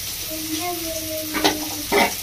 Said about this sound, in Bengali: পেঁয়াজটা ভাজা হচ্ছে বন্ধুরা